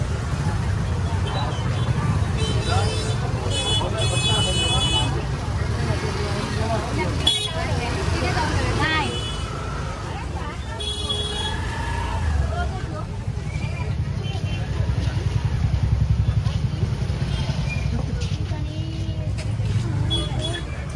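Traffic moves along a road through an evening village market at Aronda, steady engine rumble with occasional horn toots, under nearby talk and crowd chatter.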